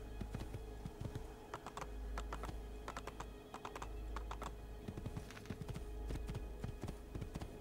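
Hooves gallop in a steady, quick rhythm as a horse is ridden across rough ground in Assassin's Creed II, the clatter staying close and fairly loud with a low rumble beneath.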